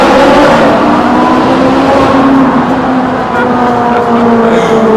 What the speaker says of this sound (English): you can't go wrong when you have a beautifully naturally aspirated 9000 Redline V8.